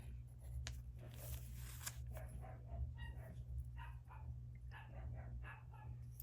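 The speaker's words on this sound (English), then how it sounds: "I'm sorry if you can hear my dogs in the background." Several dogs bark repeatedly in the background, fairly faint and continuous, over a low steady hum with no talking.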